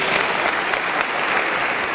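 A packed crowd at a public lecture in a district city hall claps loudly and steadily, the dense applause filling the whole moment with no gaps.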